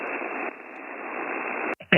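A weak amateur radio signal sits in the HF noise floor as a steady, band-limited hiss of static, briefly cut off near the end before a burst of receiver noise returns.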